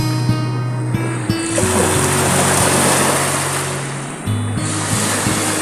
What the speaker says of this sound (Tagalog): umina na yung alon niya